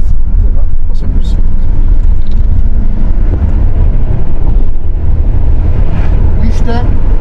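Loud, steady wind roar buffets through an open window of a 2023 Mercedes GLC 250 Coupe 4Matic travelling at around 115 km/h, with road and engine rumble underneath and a voice speaking over it.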